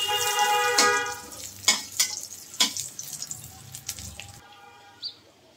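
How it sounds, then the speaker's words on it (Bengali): Dry red chilli, cardamom, cinnamon and halved bay leaf crackling in hot oil for an egg curry, with a soft sizzle punctuated by several sharp spatula scrapes and taps, fading quieter toward the end. "ফোড়নে একটা শুকনো লঙ্কা, এলাচ, দারচিনি আর একটা তেজপাতা অর্ধেক করে দিয়ে দিচ্ছি। এগুলিকে একটু ভেজে নেব।"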